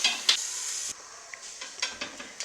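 Peppers and tomatoes frying in a pan and stirred slowly, with a bright sizzle under repeated scraping strokes of a utensil, close and clear with no talk.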